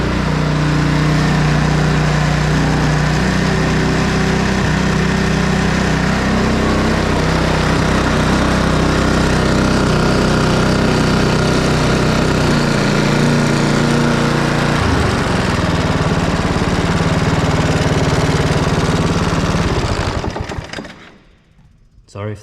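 A lawn mower engine with a broken governor arm spring roars at full throttle, loud and close, holding a steady rough drone for about twenty seconds before it cuts out. The tone shifts briefly partway through.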